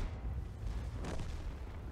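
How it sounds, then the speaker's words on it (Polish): Tank cannon shots in World of Tanks on a T-55A at the El Halluf map, a deep muffled boom with a low rumble beneath and one sharper burst in the middle, no speech. "Teraz właśnie kolejne strzały"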